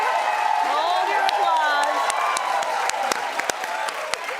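Studio audience at a daytime talk show applauds and cheers continuously, with scattered whoops, while a host talks over the crowd.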